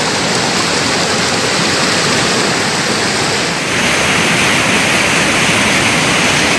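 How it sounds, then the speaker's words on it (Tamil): Flooding waterfall at Kovai Courtallam swollen by continuous rain: a loud, dense, unbroken roar of rushing water fills the whole stretch, close and steady with no voices. "தொடர் மழையால் கோவை குற்றாலம் அருவியிலும் வெள்ளப்பெருக்கு ஏற்பட்டுள்ளது"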